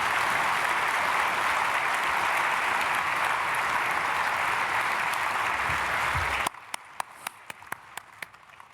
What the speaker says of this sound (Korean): 오늘 등록해 주신 분 박수로 맞이하겠습니다.